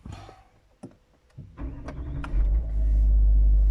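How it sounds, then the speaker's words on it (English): A Range Rover L322 engine cranks with a few clicks and stutters, then catches and settles into a loud, steady low rumble. "So I stopped the engine and tried to start again now"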